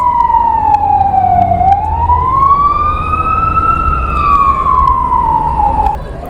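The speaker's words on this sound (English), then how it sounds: "You're going to hear a lot of sirens." A loud city siren in Toronto wails continuously, sliding down, rising, then falling again, over a low rumble of traffic.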